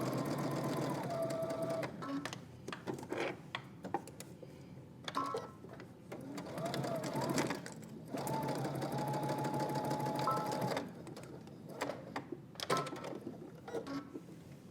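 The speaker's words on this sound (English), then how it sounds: "now you're gonna head to your sewing machine. We're gonna stitch our tie in place." A sewing machine stitches the tie of a DVF-style Vogue V2000 wrap dress in place, running in short and longer close bursts with brief pauses and a stop-start rhythm, no voices.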